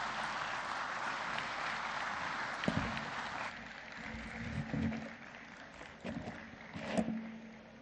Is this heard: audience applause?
yes